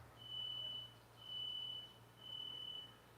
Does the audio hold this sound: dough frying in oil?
no